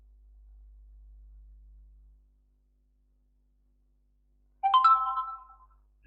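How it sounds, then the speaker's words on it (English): A short electronic phone alert chimes once after a stretch of near silence, bright and clear, with a quick tonal ring that fades out. "you will hear a message pop up on my phone"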